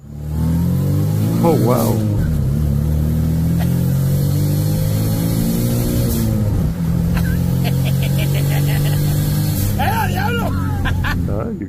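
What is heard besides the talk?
twin turbo three-cylinder Mitsubishi Mirage revving on dyno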